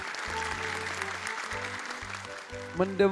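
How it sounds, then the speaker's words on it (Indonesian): An audience applauds for Arim, a Hafiz Indonesia 2019 Quran memorization contestant from Malang, at a televised religious show. A steady wash of clapping runs over soft background music, with a few louder bursts near the end. "Boleh tepuk tangan untuk Arim"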